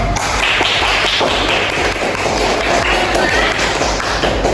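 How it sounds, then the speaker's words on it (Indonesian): Dense, loud applause fills a room as a group of classmates claps during a service excellence roleplay, with brisk overlapping claps sustained throughout and faint voices beneath. "Boleh dikasih tepuk tangan ya?"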